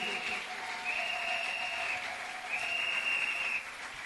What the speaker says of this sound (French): Alors il y a un chrétien qui acclame.